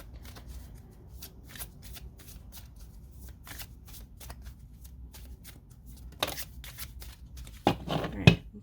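Tarot cards being shuffled, a long run of soft, rapid riffling flicks close by, growing louder and denser toward the end, with a voice faintly in the background.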